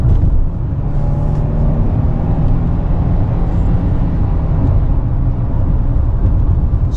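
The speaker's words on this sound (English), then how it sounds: "This engine doesn't make a lot of noise because I've gotten on it before." Factory Five Type 65 car driving at speed, a continuous loud, even roar of engine and road noise heard from inside, with no talk.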